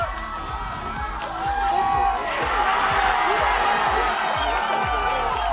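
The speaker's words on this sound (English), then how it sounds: "Everyone in the crowd egging on Thorne Van Zyl from South Africa." A crowd at a golf long drive championship shouts and cheers on a long-drive golfer, with scattered whoops and voices that swell partway through into a louder, sustained roar.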